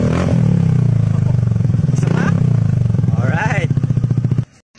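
Suzuki Burgman Street 125 scooter with a full-system muffler, silencer removed, revving loudly up close: a raspy, throbbing exhaust drone that swells through several blips before cutting off abruptly near the end.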